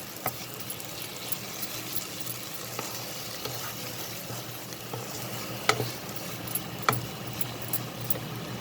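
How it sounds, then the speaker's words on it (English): Sugar is stirred into a pointed gourd curry simmering in a pan, a soft continuous sizzle with scattered light spoon taps and scrapes, close and unaccompanied by talk. "Just give it a mix."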